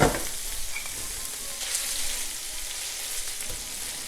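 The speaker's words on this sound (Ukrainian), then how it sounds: "І далі додаємо 120 грам вершкового масла. Та ще трішки обсмажуємо." Chicken liver fries with butter in a pan for pâté, a loud, close, even sizzle holding steady throughout after a brief burst at the start.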